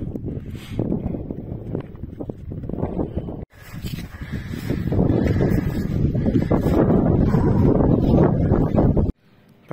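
Wind gusting across a winter mountain ridge in the Malá Fatra, a loud rough roar buffeting the microphone, briefly dropping out partway and near the end.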